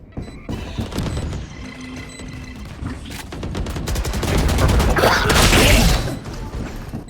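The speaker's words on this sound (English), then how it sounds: "Grenade!" A grenade explodes in the tactical shooter Valorant: a loud, harsh crashing blast swells near the end, after a stretch of clicking and clattering gameplay sounds.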